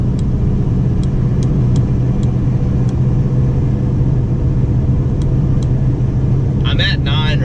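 A 2015 Chevrolet Camaro SS with an Eaton TrueTrac differential pulls in fourth gear, a deep steady engine drone filling the cabin, with a voice briefly heard near the end.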